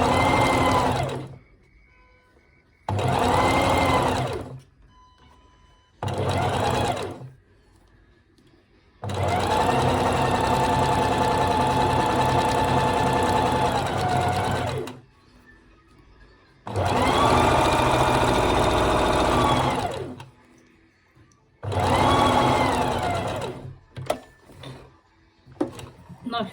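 Sewing machine stitching fur and felt pieces for a handmade plush toy, running in five or six separate bursts of a few seconds each with quiet pauses between, loud and close.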